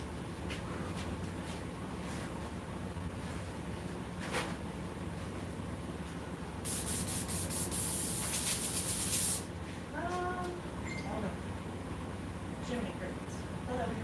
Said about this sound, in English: I set the hair with some spray so the hair would stay where I wanted it to be.